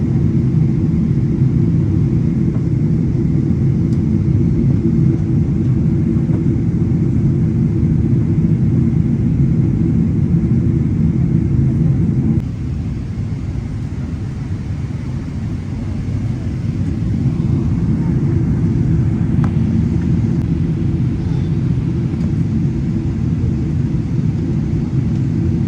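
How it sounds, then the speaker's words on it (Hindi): Steady, loud airliner cabin roar during a turn in light turbulence near clouds, a constant low engine and air rumble that dips briefly in level midway, with no talking. "थोड़ी थोड़ी टर्बुलेंस हो रही है, क्योंकि जहाज़ अभी टर्न भी ले रहा है"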